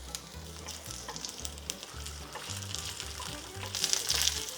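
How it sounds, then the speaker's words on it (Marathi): Onions and capsicum sizzle in a hot pan for tawa paneer, a close, steady crackling fry. Soft scrapes of stirring come through underneath, and the hiss grows brighter near the end. "त्याचबरोबर आपण थोडीशी सिमला मिरची पण घालतो."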